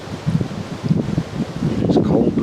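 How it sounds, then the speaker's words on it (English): Cold wind gusts sweep across an open deer camp, a steady low rushing and buffeting against the microphone that swells and eases with rustling for a few seconds. "with these wind gusts"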